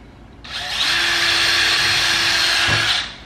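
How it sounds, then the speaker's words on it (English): A power drill whirs as it bores a single hole into a golf cart dash, with one close, steady burst of nearly three seconds that holds an even pitch before spinning down. "I'm just gonna drill my first hole right here."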